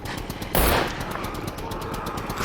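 Gunfire in the SCUM survival game, a loud burst near the start followed by a rapid, rattling series of shots that continues steadily to the end.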